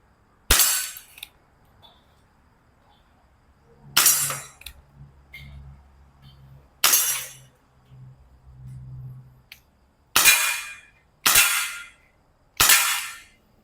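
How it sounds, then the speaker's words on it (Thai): WinGun 703 BB airsoft pistol fires six sharp single shots, close and loud, spaced unevenly with quiet gaps and a faint low hum between some of them. "ยิงได้ปกติครับตัวปืนไม่มีปัญหานะครับผมมาเช็คเคลียร์ว่ายิงออกหมดทุกลูก"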